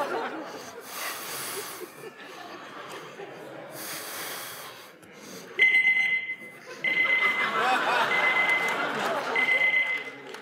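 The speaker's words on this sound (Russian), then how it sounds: "Это я напоминалку поставила, чтобы не забыть задать самый важный вопрос." A phone reminder alarm rings in a bedroom partway through a comedy sketch, a steady electronic tone starting midway and running to the end, with breathy laughter and snorts heard around it.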